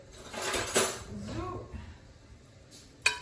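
A utensil stirs food in a dish during quick home cooking, making a few soft clinks and scrapes, with a brighter clink near the start and a sharp tap at the end, fairly faint and close.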